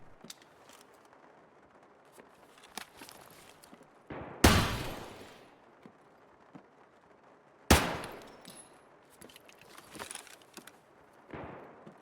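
Two loud gunshot bursts ring out in Escape from Tarkov as lights are shot out, a sharp crack near four and a half seconds and another near eight, each with a decaying echo over a quiet, faintly clattering background.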